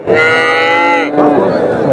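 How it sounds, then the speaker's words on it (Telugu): A cow moos loudly and close by at the Chintamani cattle market, one long drawn-out low call that shifts pitch partway through. "పాల ఆవులు"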